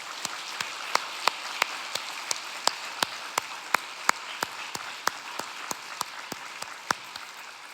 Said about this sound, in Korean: 여러분을 지극히 사랑하시는 우리 하나님 앞에 우리 박수 한번 합시다.